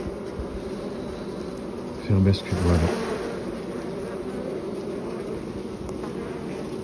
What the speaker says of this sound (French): J'ai l'impression que là, les abeilles prennent le dessus.